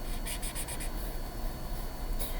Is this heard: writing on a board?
yes